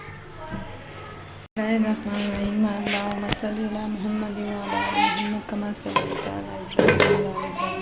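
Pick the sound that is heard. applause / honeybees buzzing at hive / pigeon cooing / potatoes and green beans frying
potatoes and green beans frying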